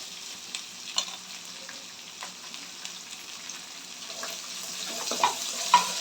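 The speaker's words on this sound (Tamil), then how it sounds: "வெங்காயம் கொஞ்சம் நல்லா வதங்கட்டும்" Sliced onions sautéing in a pan for spiral pasta, a faint, steady sizzle with occasional soft scrapes and stirring knocks, growing slightly busier toward the end.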